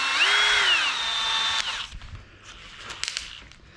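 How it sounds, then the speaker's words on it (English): A high-pitched power drill with a tiny bit whines loudly, rising and holding its pitch, then cuts off, leaving faint clicks and handling noises. "I want to get a tiny drill bit"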